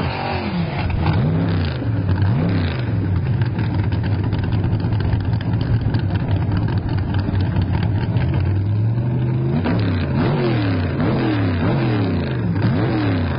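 A loud, throaty drag racing car engine revving steadily at Hot Rod Drag Week in Tulsa, Oklahoma, with rising and falling pitch sweeps as the car accelerates, heard at close range.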